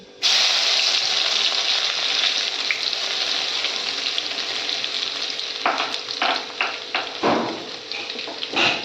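Garlic dropped into hot oil with cumin and mustard seeds sizzles loudly and steadily, then stirring scrapes and clatters near the end, with no voices.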